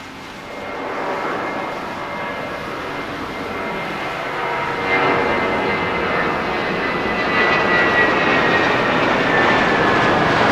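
An airliner lands on runway 6 left at Los Angeles International Airport on a stormy day, its engines producing a loud, continuous roar that swells gradually as it nears, with no voices present.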